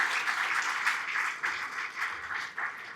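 A gala audience gives a round of applause, a steady wash of many hands clapping at moderate level from a distance, without speech over it.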